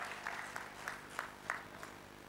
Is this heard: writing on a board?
no